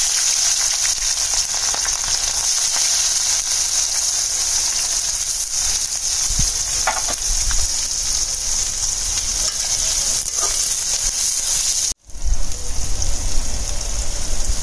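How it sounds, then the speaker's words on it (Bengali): Chopped onions frying in hot spiced oil in a home kitchen for a duck curry, a loud, continuous sizzle that stays close and steady, with a brief cut near the end before the sizzle resumes. "এখন দিয়ে দিব কেটে রাখা পেঁয়াজ"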